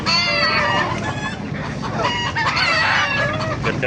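Chickens cluck and squawk close by in a busy chorus at a Baliuag market, several birds calling over one another continuously with a low background rumble.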